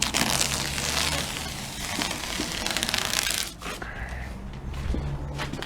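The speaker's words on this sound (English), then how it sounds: "Now you can remove the painter's tape." Painter's tape is peeled off an interior door: a steady, close rasping and ripping pull that runs for about three and a half seconds, then a short break and softer rustling handling of the tape, with no voices.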